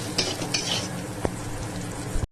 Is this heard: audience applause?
no